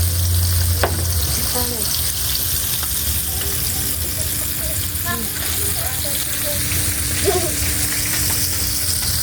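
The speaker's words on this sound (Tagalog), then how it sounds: "Piniprito na po ni ate." Coated food frying in a pan, a steady broadband sizzle that holds through the whole stretch with light stirring scrapes and a faint voice under it.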